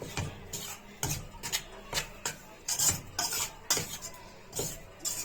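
A spoon stirring a ghee mixture in a pot over very low heat, repeated scraping and clinking strokes in a steady rhythm, close and fairly quiet with no talk.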